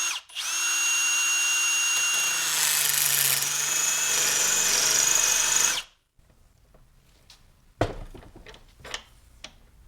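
A power tool whirs loudly and steadily for about six seconds while rounding out a tight hex bolt, its pitch dipping under load, then stops, leaving a few clanks and handling knocks.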